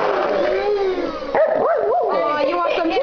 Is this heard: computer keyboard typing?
no